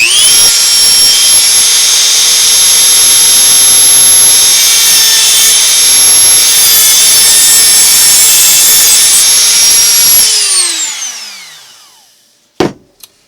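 A brass cartridge casing being cut off at a marked line with a power cutting tool, a loud steady high-pitched whine and grinding that runs for about ten seconds, then winds down as the tool spins to a stop, followed by a brief clack.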